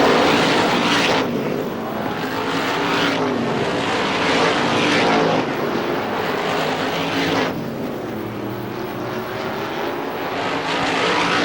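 Supermodified race cars roar around Star Speedway in a continuous loud engine wash, the pitch swelling and fading as cars pass close by, with no talk over it.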